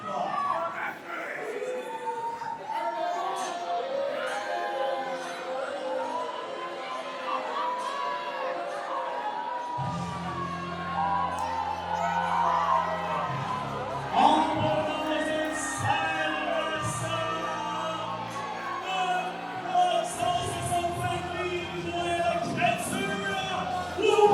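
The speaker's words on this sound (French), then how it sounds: "la foule à Saint-Hyacinthe semble être dans Billy Stone" A wrestling crowd at Saint-Hyacinthe cheers for Billy Stone, a continuous wash of shouting and chatter that swells at times, heard under a commentator's steady talk.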